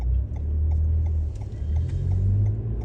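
A truck's engine gives a steady, close low rumble with slight swells as it turns, on a street on Marco Island in Florida after Hurricane Ian.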